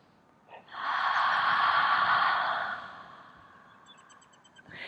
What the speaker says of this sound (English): you take few deep breaths like this